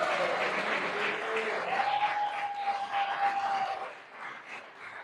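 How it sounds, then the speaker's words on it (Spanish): A church congregation claps for a servant named Camilo on his birthday, dense continuous applause close by with a sustained whistle-like tone riding through the middle, then tapering off near the end. "Un aplauso para él."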